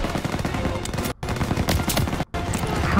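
Call of Duty WW2 gunfire aimed at an MG-42 machine-gun nest: loud, dense, rattling automatic fire with two brief sharp gaps, close and nearly continuous, with no talk.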